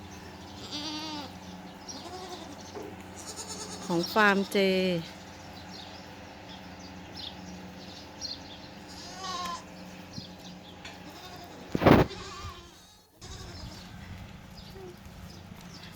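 Baby goats bleat in their pen on a dairy goat farm, with a cluster of close, wavering bleats early on, a short one mid-way and a loud bleat near the end, amid barn noise and someone talking.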